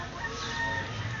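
A chicken clucks close by in a short burst of throaty calls, with faint background noise and no clear talk.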